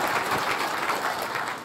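Audience applause at a memorial dinner, a steady dense wash of many hands clapping at moderate level, heard alone without voices and tapering slightly at the end.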